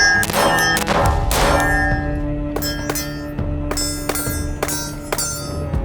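Sig 365 AXG Legion pistol fired outdoors, several sharp shots at an uneven pace, the first two louder and close together, then a string of spaced cracks with ringing tails and a steady hum beneath.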